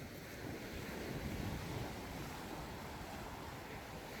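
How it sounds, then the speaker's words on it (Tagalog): Rough sea surging and washing at close range, a continuous roar of surf mixed with heavy wind noise on the microphone, no voices. "Bugabog ang dagat."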